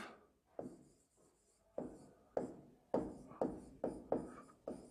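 A teacher writes a note on a board during a chemistry lecture on volumetric analysis, a series of distinct scratchy chalk or marker strokes, about eight in rhythmic succession, close and fairly loud with no talking.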